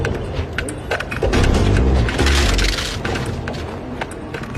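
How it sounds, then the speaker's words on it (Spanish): Gunfire rings out in a dramatized crime reenactment shootout between a federal agent and a bodyguard, a loud, dense burst of booming shots and rumble that swells in the middle and fades slightly toward the end. "El otro federal devuelve los disparos y mata al guardaespaldas."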